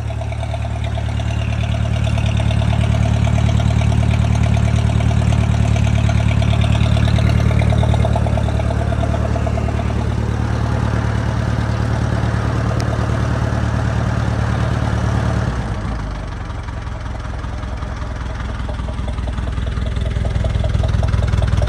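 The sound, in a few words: International 230 swather engine idling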